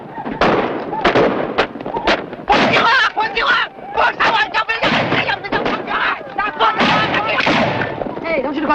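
Rapid gunfire crackles across a wagon camp during a 1950 Western film battle, dense overlapping shots mixed with shouting voices and battle commotion throughout.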